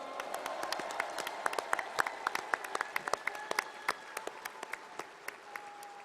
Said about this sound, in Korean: 축하와 위로의 큰 박수 부탁드립니다.